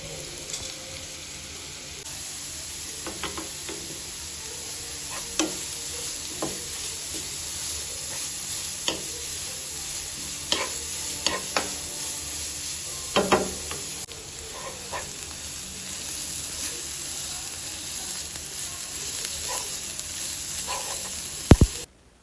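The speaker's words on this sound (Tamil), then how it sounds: "துருவிய கேரட்டை இந்த சட்டிக்குள் போட்டு நன்கு கிளறு." Grated carrot fries in ghee in a pan for carrot halwa and keeps up a steady sizzle throughout, with occasional sharp scrapes and clinks as it is stirred, close and fairly loud.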